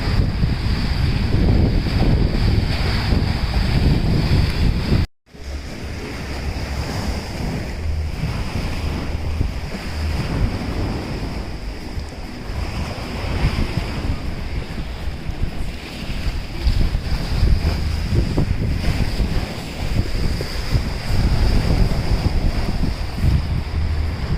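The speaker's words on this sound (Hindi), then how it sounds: "तो आज पानी की लहरें बहुत तेज़ उठ रही हैं" Strong ocean waves surge and wash continuously at a kite surfing spot in Burundi, Africa, with gusty wind buffeting the microphone throughout and a brief dropout near the start.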